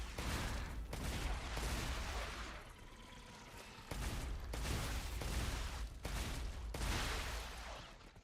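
An auto shotgun fires in the sci-fi game StarRupture, with rapid repeated blasts in dense bursts broken by short pauses, loud and close throughout.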